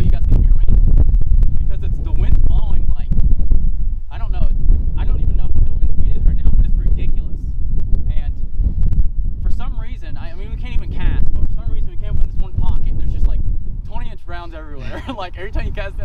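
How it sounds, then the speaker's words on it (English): Gusty wind buffets the microphone beside a Colorado river while fly fishing, a loud low rumble that rises and falls throughout as someone talks over it. "I don't know how well you guys can hear me, because it's the wind."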